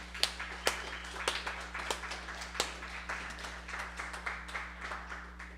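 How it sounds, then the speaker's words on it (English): A small crowd claps for several seconds, a scattered, uneven patter of hands at moderate distance, with a steady low hum underneath. "Quick round of applause for everyone who's building this."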